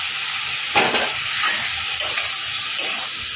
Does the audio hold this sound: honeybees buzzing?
no